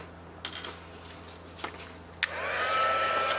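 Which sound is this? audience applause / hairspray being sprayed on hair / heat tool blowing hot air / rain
heat tool blowing hot air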